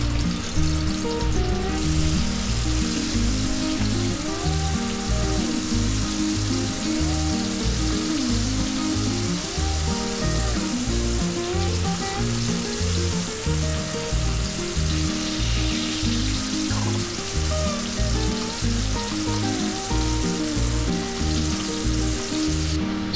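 Goan pomfret fillets coated in recheado masala fry in a pan, a dense, even sizzle holding steady and close throughout with no talking.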